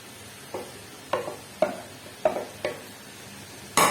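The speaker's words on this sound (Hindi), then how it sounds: "अब हम इसमें गोभी डालेंगे और 10 मिनट का दम दे देंगे अच्छी तरह मिक्स करके।" Cauliflower tossed into fried masala and stirred in a pan, with a series of separate scraping and clattering strokes at an uneven pace over a soft sizzle, ending on one louder clatter.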